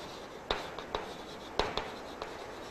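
Chalk or marker strokes on a board during a classroom chemistry lesson, a series of faint, sharp taps and scratches in an irregular rhythm against quiet background hiss.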